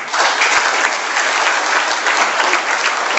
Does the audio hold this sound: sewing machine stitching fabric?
no